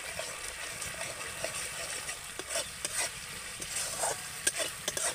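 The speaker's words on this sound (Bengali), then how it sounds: "একটু ভালো করে নেড়ে নেব আবারও।" Steady sizzling of frying potol (pointed gourd) masala in a pan, with a spatula scraping and stirring through it in irregular strokes, close and continuous, no voices.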